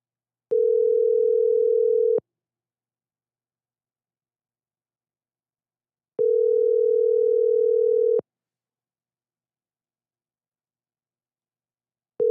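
Steady telephone tone heard as a call is dialed, sounding in two long pulses of about two seconds each with silent gaps between, then starting again at the end; clean and alone with no voices.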